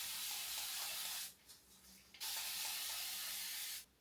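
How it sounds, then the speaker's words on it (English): Two long bursts of fine water mist from a spray bottle being sprayed onto type 4 hair, each a loud, steady hiss lasting over a second, separated by a brief quiet pause; no talking. "spray my hair with a little bit of water first"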